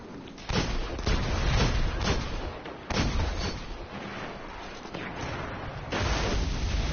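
Hand cannon gunfire in the video game Destiny: a steady run of loud, booming shots, one after another, filling the whole stretch with no talk over it.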